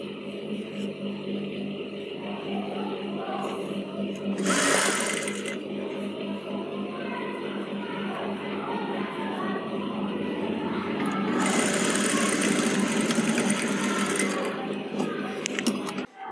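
Sewing machine stitching a Peter Pan collar on a kurti, a steady mechanical whirr running through, with a couple of louder bursts of faster stitching.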